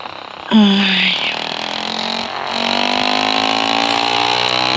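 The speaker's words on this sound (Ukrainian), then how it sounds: "Так, вантажівка. Це вантажівка, я скажу." A truck passes along a narrow city street, its engine rising sharply into a loud, close drone with harmonic whine that holds steady as it goes by; a brief voice is heard at the start.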